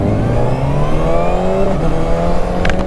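A Kawasaki Ninja ZX-6R pulls hard during a Daytona test ride, its engine note rising loud and close through quick-shifter gear changes, with a brief drop in pitch between pulls.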